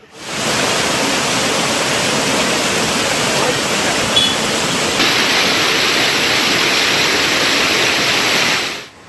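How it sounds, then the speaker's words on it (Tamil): Loud, steady roar of a waterfall in flash flood after heavy rain in Tamil Nadu, a dense broadband rush of pounding water filling the whole stretch without pause. "அருவியில் வெள்ளம் ஏற்படும் போது"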